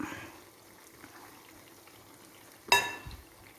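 Unniyappam batter is poured into a hot appam pan, each well filled only halfway. A quiet stretch gives way to one sudden sharp sizzle that flares and fades, followed by a soft low thump.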